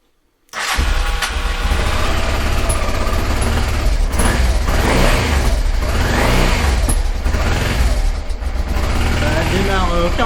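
A Honda Transalp motorcycle engine starts after brief silence, catching at once and settling into a loud, steady idle close by, with a voice speaking over it.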